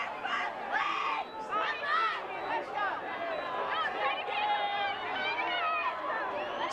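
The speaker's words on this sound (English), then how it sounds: "Crowd coming alive here at Crocker Field." Crowd at Crocker Field for a high school football game comes alive with cheers and shouts, a lively mass of voices mixed with nearby chatter, moderately loud and continuous.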